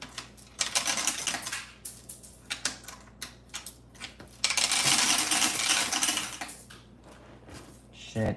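Pennies from a penny box tumbling and hitting a floor, a busy run of light metallic clinks and rattles, with one denser cascading burst midway, fairly close but moderately quiet.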